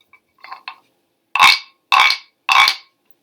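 A pig-shaped percussion instrument imitates a pig: a few light taps, then three loud, rasping, grunt-like bursts in a steady rhythm, close and clear with no talking.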